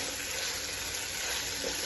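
Ginger garlic paste fries in a pan, a steady close sizzle with faint bubbling hiss running unbroken and without talk.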